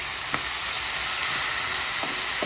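Bitter gourd sautés with salt and black pepper in a hot pan, a steady, loud, close sizzle of frying with a few faint stirring scrapes and no talking.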